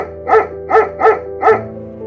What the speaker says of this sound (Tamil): அப்பொழுது ஒரு நாய்க்குட்டி இன்னொரு நாய்க்குட்டியை சீண்டியது